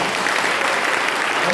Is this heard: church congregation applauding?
yes